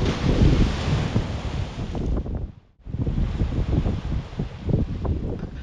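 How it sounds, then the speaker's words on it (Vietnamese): Sea waves wash onto a beach in Bình Thuận under steady wind buffeting the microphone. The surf hisses continuously, then dips into a brief lull before rolling back in. "Biển rất đẹp, gió mát, sóng thì vỗ rì rào,"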